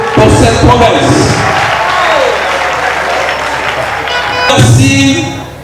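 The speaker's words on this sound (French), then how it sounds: "nous voulons les remercier par nos acclamations, par nos cris de joie" A crowd at a school ceremony breaks into loud applause and cheering, a dense wash of clapping that swells again near the end, with voices over it.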